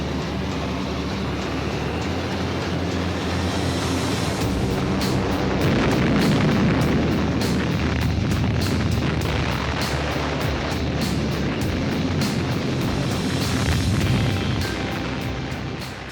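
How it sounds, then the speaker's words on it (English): Bombing raid dropping high explosive on the Norsk Hydro plant in Norway, a loud, dense, continuous roar with rumbling blasts and crackling impacts throughout. "The bombing raids dropped 400 tons of high explosive."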